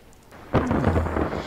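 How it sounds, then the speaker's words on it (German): A sudden thunderclap breaks out and rolls on in a long rumbling wash during a thunderstorm in the video game Yonder: The Cloud Catcher Chronicles, loud after a quiet start. "Dann kommt auch noch Gewitter, ne?"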